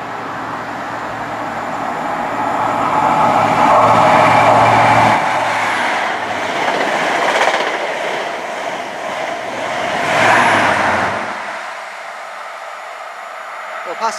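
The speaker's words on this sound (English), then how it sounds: "Passing through there is 43136 and 43172, Harry Patch, with the 1203 pass from Bristol Parkway to London Paddington" Two Class 43 HST diesel power cars roar past nearby at Keynsham on a Bristol Parkway to London Paddington service, a loud whining rush that surges twice before dropping suddenly to quiet.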